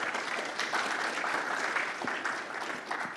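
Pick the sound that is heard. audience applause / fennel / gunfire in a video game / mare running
audience applause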